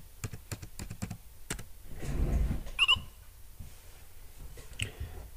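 A short burst of crisp key presses on a computer keyboard entering a passcode in Linux Mint settings, close and fairly quiet, followed by a soft rustle and a brief squeak, with no talk over it.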